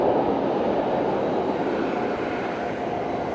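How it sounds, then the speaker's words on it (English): ATR 42 turboprop airliner at Fukuoka Airport, a steady mid-distance engine drone with a gentle fade over a few seconds, no speech over it. "so that's the 42, ATR 42, not the 72 that you get in New Zealand"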